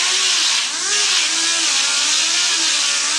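A power sander grinds against a plastic mop bucket, a loud continuous whining motor with a wavering pitch that dips briefly under load, running nonstop throughout.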